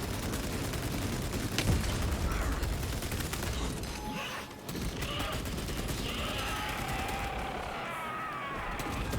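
Heavy bolter gunfire in Space Marine 2, a dense and unbroken barrage of rapid shots that keeps going the whole time, loud and close, layered with in-game explosions and battle noise and no break in the firing.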